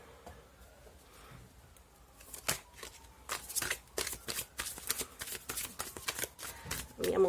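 A large deck of cards is shuffled by hand on a table in rapid riffling bursts after a quiet start, with a voice briefly heard at the end.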